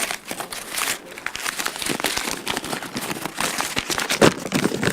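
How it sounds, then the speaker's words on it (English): A sheet of paper is crumpled into a ball by hand, with dense, crackling crinkles close by. The rustling comes in uneven bursts for several seconds. "This piece of paper, I balled it up."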